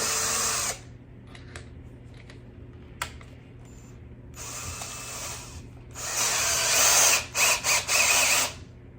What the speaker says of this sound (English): There's the drill.